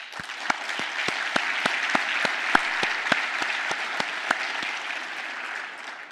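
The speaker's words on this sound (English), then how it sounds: "These partners deserve a huge round of applause" An audience at the Port of Los Angeles State of the Port address applauds steadily, with one nearby clapper's sharp, evenly spaced claps standing out over the crowd for about six seconds.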